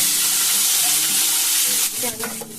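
Paneer cubes seasoned with salt and turmeric fry in hot oil, giving a loud, continuous sizzle close by that thins out toward the end, with brief stirring noises.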